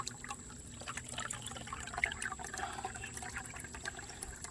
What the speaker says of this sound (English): there's a water source here.